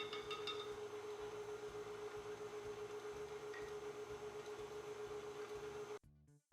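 A steady electric stand mixer hums continuously as it beats coconut cake batter, with a pulsing low rumble and a constant whine, running evenly for several seconds before cutting off abruptly near the end.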